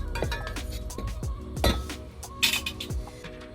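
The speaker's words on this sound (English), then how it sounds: "And then I'm going to add the chopped garlic as well. And we're going to quickly stir fry this." Chopped garlic with turmeric stir-fried quickly in a pot, with metal utensil clinks and scrapes against the pot in irregular knocks over a faint background, no one speaking.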